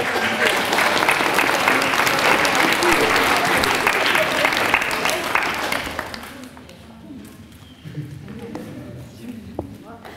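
Theatre audience applauding at the close of a stage play, a dense wash of clapping for about six seconds that thins out and fades into scattered claps and room noise.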